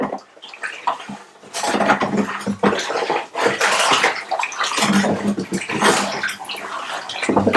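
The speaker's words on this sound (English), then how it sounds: "I'm just going to give that a stir." Sugar being stirred into hot water for homemade elderflower wine, loud churning and sloshing of liquid in a pot with irregular swirls and splashes, close and continuous throughout.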